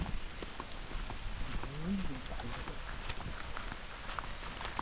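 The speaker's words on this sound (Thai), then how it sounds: "ฝนมาแล้วทุกคน" Steady rain patters on a surface close by, a constant hiss with scattered drops, and no voices.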